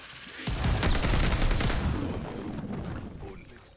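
Shotgun fire in the video game Call of Duty: Vanguard Zombies, a dense burst of loud overlapping blasts and rumbling explosions that swell and slowly fade, with faint game noise behind.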